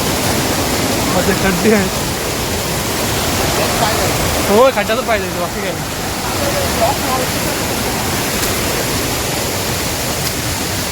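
Stream water rushing steadily during a night trek at Bhairavgad, Ratnagiri, a close, continuous broadband flow with people talking over it.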